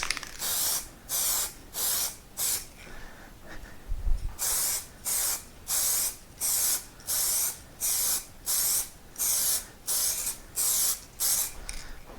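Short rhythmic bursts of aerosol spray paint hissing onto a Royal Enfield Himalayan motorcycle seat, about a dozen evenly spaced half-second sprays close up, with brief pauses and a small thump between them.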